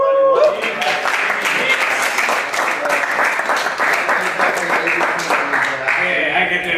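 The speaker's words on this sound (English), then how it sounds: "I also wanted to give this guy a round of applause." A crowd at a Fiesta Equestria 2017 convention panel breaks into a sustained round of applause, loud and dense clapping that holds steady for several seconds, filling the room close to the microphone.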